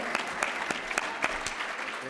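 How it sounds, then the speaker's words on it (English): An evening event audience applauds their host, Michael Lyon, with a steady burst of close clapping in which individual claps stand out in a quick uneven rhythm throughout. "Another round of applause for Michael Lyon for hosting us this evening."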